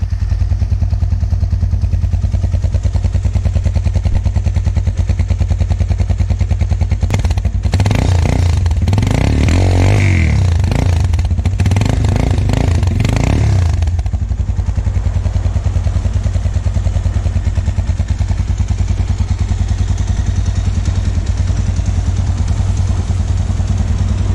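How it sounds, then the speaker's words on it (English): A 2021 RUSI motorcycle engine runs steadily at idle with a slight knock, revving up louder for several seconds in the middle before settling back. "But still there is a little bit knock from the engine."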